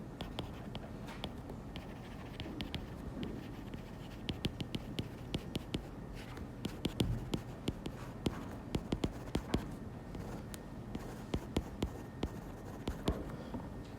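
Writing on a board during an engineering lecture: faint, irregular scratchy strokes and light taps run for about fourteen seconds in a quiet room, with no talking.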